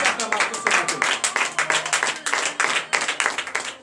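Dense, continuous clapping from a large church congregation at a morning prayer service in Comè, Benin, loud and sustained with a ragged rhythm, with voices mixed into the applause.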